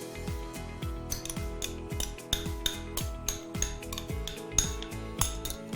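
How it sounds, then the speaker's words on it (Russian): Cottage cheese being stirred with condensed milk in a bowl, producing repeated rhythmic metallic scrapes and clinks of a utensil against the dish, fairly close and steady with no talking. "И продолжаем перемешивать."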